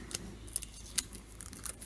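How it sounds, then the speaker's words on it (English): Scissors snipping paper for a dollhouse miniature book, a handful of crisp, close cuts spaced irregularly over a quiet background. "or you can use your scissors"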